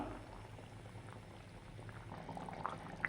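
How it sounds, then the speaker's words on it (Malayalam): A pot of fish curry with green mango bubbles and simmers steadily and close by, with soft popping bursts near the end and no talking. "കറി ഇതാ തിളച്ച് സെറ്റായി വന്നിട്ടുണ്ടേ"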